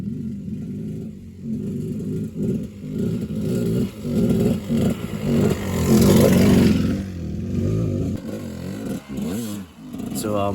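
A KD 200 dirt bike ridden on trails, its engine revving and roaring up and down in waves, loudest near the middle, with a voice talking over the motor noise.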